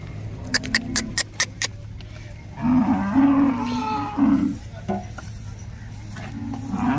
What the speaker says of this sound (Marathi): व्हिडिओमधील सहा नंबरची गाय